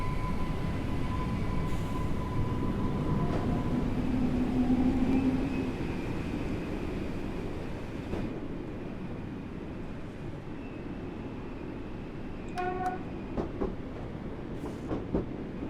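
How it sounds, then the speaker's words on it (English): A fast train in a train simulator game gives a steady rumble with rhythmic rail clatter throughout, with a faint tone and a brief cluster of clicks near the end. "this is a fast train, I have to say."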